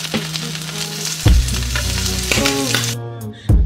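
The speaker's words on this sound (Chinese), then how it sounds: "虾头先下锅，煸出虾油" Shrimp heads sizzle in oil in a hot wok, a steady crackling hiss that runs throughout with background music playing over it.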